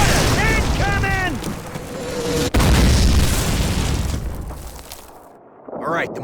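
Mortar shells exploding in the World War II shooter Call of Duty, deep booming blasts and rumbling debris filling the scene, loud and close, with shouted voices over the top.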